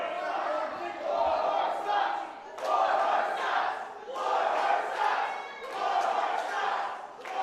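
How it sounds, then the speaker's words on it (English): A crowd at a Relentless Wrestling match shouts in loud rhythmic waves, rising and falling in repeated chant-like bursts that fill the arena. "The crowd giving the Warhorse his due"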